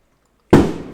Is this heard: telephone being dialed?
no